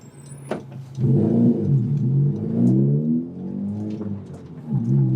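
A Honda Civic Type R (FK8) with an aftermarket exhaust revs up and holds a throaty exhaust note, rising and falling in pitch, close and fairly loud with no one talking.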